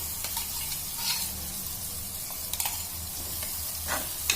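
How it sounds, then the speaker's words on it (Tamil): Coconut paste sautés in a pan for a Kerala vaala meen fish curry: a soft, steady sizzle with occasional stirring scrapes and light clicks from the spoon. "இதையும் நல்லா வணக்கி எடுத்துக்கலாம்."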